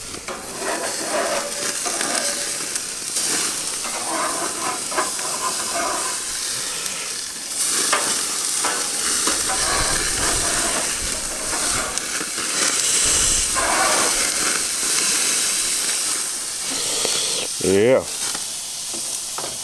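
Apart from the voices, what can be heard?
steak sizzling on a Monument Grills Mesa 405k gas grill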